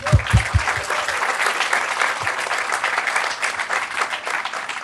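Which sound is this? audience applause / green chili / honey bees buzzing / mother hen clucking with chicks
audience applause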